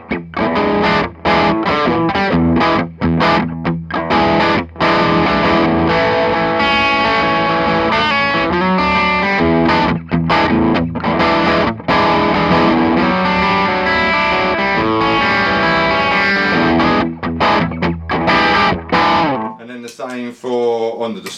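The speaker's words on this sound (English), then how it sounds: "If I just did the same idea, but with an overdrive sound" Electric guitar through an overdrive pedal playing a continuous riff of sustained, crunchy chords and notes, loud and dense, ending with a brief ringing tail.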